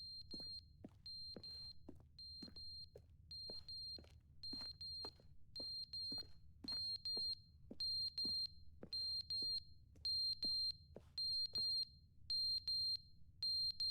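Smoke alarm with a dying battery in a game's room, giving short high electronic chirps repeated steadily at roughly half-second intervals, fairly quiet over a low background hum.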